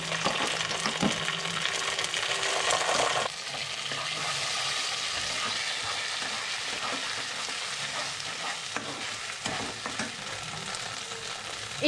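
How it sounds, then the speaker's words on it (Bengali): A spice paste with a little salt, the common blend also used for fish curry, khichuri and aloo dum, sizzles and fries steadily in a pan while being stirred, loud and close with no talk. "এটাকে জাস্ট একটু কষিয়ে নেব।"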